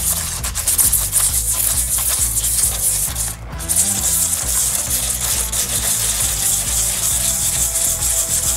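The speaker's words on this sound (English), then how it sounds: "So you just gotta give it a light sanding" Light sanding of a resin-coated painted canvas gives a continuous close scratchy rubbing with repeated strokes and a brief pause midway, no talking.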